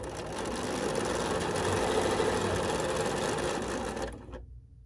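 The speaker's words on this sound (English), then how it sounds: "So now let's sew." Sewing machine stitching fabric for a quilt block, a close, steady mechanical whir of rapid needle strokes that runs evenly for about four seconds, then stops abruptly.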